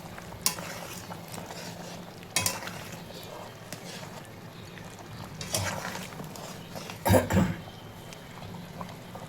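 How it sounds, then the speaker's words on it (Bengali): A spoon stirs garam masala frying in a pan for mutton curry, with scattered scrapes and metallic clinks over a soft sizzle and a louder clatter near the end. "গরম মশলাটা খুবই টেস্টি খেতে। একটু নাড়িয়ে দিই।"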